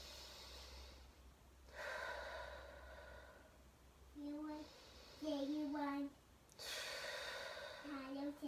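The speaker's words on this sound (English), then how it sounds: "I want you just to take a deep breath, but I want you to feel it in your diaphragm" Deep diaphragmatic belly breathing, slow audible inhales and exhales drawn in and out close by, interspersed with voiced sighing sounds and talk.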